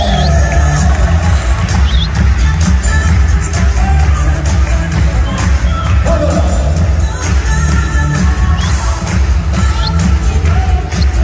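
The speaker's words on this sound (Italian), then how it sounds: "please put your hands together, fuerte applauso, gros d'applauso, grande applauso" A nightclub or show audience in Playa de las Américas, Tenerife, claps and cheers, a loud continuous wash of crowd noise with whoops and bangs over a heavy low thump.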